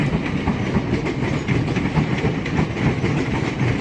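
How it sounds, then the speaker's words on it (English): British Rail Class 376 electric trains rumble and clatter loudly over a junction near Lewisham on the North Kent Line, with continuous close wheel clicks and rail noise throughout. "There's the 376s making a tremendous amount of noise over the junction."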